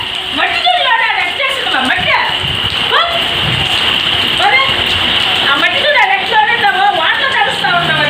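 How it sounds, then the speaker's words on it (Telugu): Heavy rain pours down steadily in a continuous loud hiss with splashing and patter close by, while people talk over it throughout. "ఎంత వాన"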